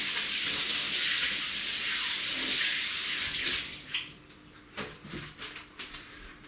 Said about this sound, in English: and just give them a quick rinse.